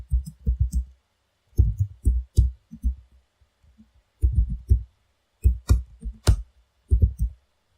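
Keystrokes on a computer keyboard while typing in vim, close soft thuds coming in quick bursts of several presses with short pauses between them.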